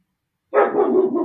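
A dog gives a single close, loud bark that trails into a short rough growl. No one speaks over it, and the bark stands alone after a moment of silence.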